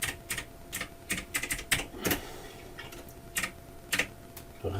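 Keys clacking on a computer keyboard while a word is entered into a PowerPoint slide, in short uneven bursts of close, crisp taps separated by brief pauses.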